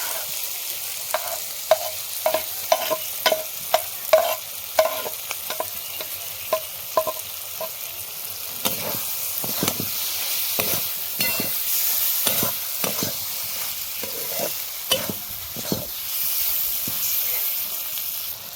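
Beef brain frying with chopped green chillies in a pan, a steady sizzle broken by repeated scraping strokes of a spoon stirring, close and continuous throughout.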